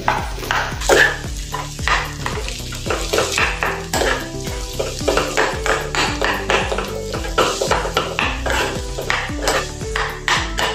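A spiced vegetable filling for dosa, seasoned with salt, red chilli powder and turmeric, gets stirred in a pan. A spoon knocks and scrapes against the metal in a quick, uneven rhythm over a soft sizzle, with tonal ringing in the background.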